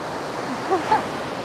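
Ocean waves washing up on a beach at sunrise, a continuous soft wash of surf with a brief swell, while a voice briefly exclaims.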